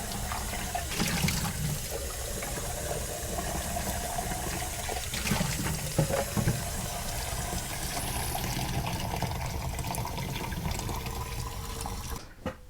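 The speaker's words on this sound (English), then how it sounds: "I've got the film over in the sink. The water is just pouring on the film" Tap water pouring onto black-and-white film in a sink for washing, a steady continuous splashing rush with small fluctuations and a brief knock near the end.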